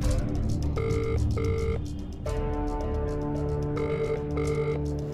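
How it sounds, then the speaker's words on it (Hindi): A telephone rings in a repeated double-burst pattern, two short rings, a pause, then two more, heard over a low rumbling background in a crime drama scene. "उसी का फोन है।"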